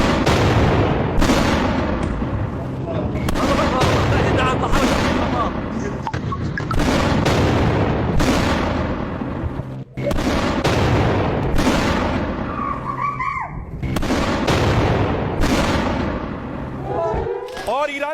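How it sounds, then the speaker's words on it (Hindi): A rapid series of loud, sharp bangs and booms from fireworks set off in celebration in Iran, going off in close succession with brief gaps between bursts, while crowd noise and voices carry underneath. "ईरान में पटाखे छूट रहे थे"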